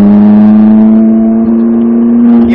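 A Ferrari F458 on a race track gives a loud, steady, close-up engine drone with a strong sustained tone that creeps gradually higher in pitch as the car accelerates. The engine is heard alone.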